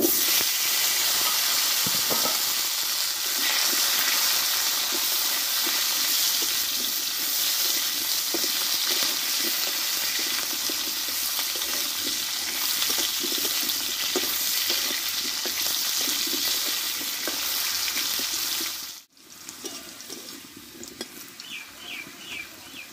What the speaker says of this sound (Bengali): এই তেলেই আমি আলুগুলোকে কষে নেব।